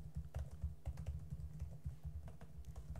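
Steady, rapid clicking of keys on a computer keyboard as Java code is typed, close and fairly quiet, with no talking.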